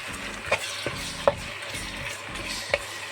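Onions, curry leaves and tomato sizzle in hot oil for an Indian tadka, with steady frying hiss and a few sharp clinks of a spoon stirring the pan, close up and with no talking.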